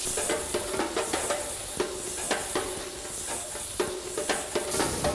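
Veal drippings sizzle and hiss on thick veal chops over a Grillworks wood grill. A constant close hiss carries frequent sharp crackles and pops, and no voices are heard.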